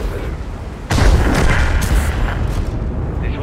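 A tank cannon in a video game fires one heavy, close boom that breaks a quiet stretch, then rolls into a long, loud rumbling tail that slowly fades.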